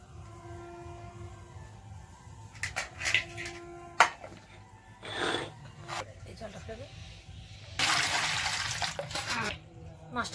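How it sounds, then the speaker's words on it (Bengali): Tap water running while a rohu fish is rinsed by hand in a home kitchen, a steady broadband gush near the end with clatter and splashing earlier, under a voice talking. "মাছটা ভালো করে ধুয়ে নিই"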